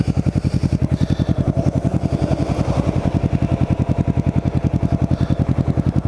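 A Ninja motorcycle rides near Cape May, New Jersey, its engine pulsing in a steady rapid rhythm close by, with wind rushing over the recording throughout.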